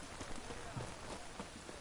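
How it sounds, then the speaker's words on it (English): Steady rain patter in the video game The Witcher 3, hissing across the whole stretch, soft and even with no break. "It's raining, of course it's going to be."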